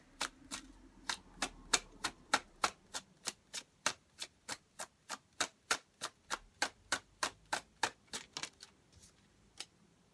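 Tarot cards are drawn and handled in a rapid, even series of about thirty crisp snapping clicks and flicks, close and fairly quiet, with no talk.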